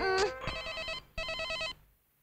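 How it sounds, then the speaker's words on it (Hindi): A telephone rings in a Hindi-dubbed action movie, two bright electronic ring bursts separated by a short gap, loud and clear after a brief rising tone at the start. "किसी आत्मा का फोन है।"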